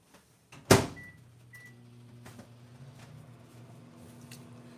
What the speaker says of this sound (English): I'm going to put this in the microwave for 3 minutes